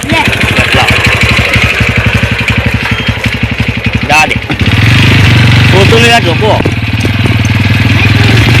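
A motorcycle with a bicycle tied to it idles in a rapid, even putter, then revs up to a louder steady drone, close and dominant, while people talk over it.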